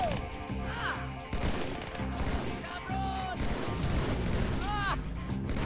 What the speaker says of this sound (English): I'm being shot at from other places